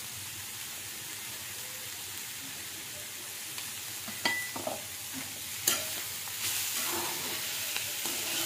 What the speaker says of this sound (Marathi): व्यवस्थित परतून घेऊ